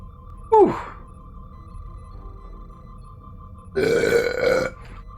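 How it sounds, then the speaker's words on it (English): Two loud burps from someone drinking soda: a short sharp one first, then a longer drawn-out belch a few seconds later over a steady low background hum. "Okay, enough burping."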